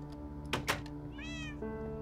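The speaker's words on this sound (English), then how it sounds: "Yes, kitty, I hear you." A cat meows once indoors, a short rising-falling call near the middle, heard over a steady electronic hum and a couple of soft knocks just before it.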